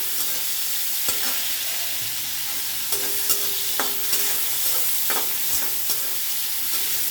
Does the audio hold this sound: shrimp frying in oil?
yes